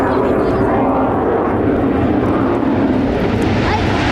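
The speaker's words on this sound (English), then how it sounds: "Slow transition as he accelerates his aircraft at 300 miles per hour." A military jet accelerates at an air show at Quonset Air National Guard Base in 1997, a loud, sustained roar that holds steady and close for several seconds.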